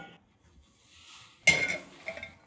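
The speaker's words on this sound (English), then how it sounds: "you can scrape this right into your eggs and raisins" Melted sugar is scraped out of a pan into eggs and raisins, heard as a sudden bright utensil scrape and clatter after a near-silent stretch, followed by a few short clinks.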